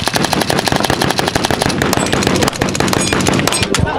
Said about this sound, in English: Every one of these carbines on the table is a machine gun.